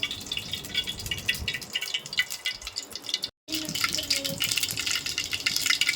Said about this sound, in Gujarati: તેલ તડતડ થાય છે કેમ કે તપેલી થોડી પાણીવાળી હતી ને